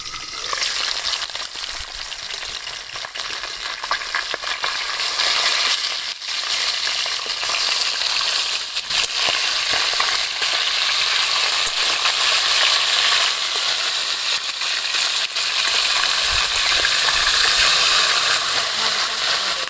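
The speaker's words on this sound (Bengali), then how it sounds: "এই মাছগুলো কিন্তু ঢাকা দিয়ে দিয়ে ভাজতে হবে, তাছাড়া কিন্তু মুখ চোখ একদম পুড়িয়ে যাতা অবস্থা করে দেবে।" Catfish (magur) frying in hot oil in a covered pan, a loud, steady sizzle with crackling and spitting that holds throughout, no talk.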